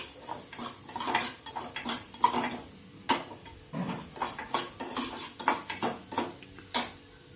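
Cumin and fenugreek seeds roasting in a small pan, with a run of light metallic clinks and scrapes from a spoon against the pan.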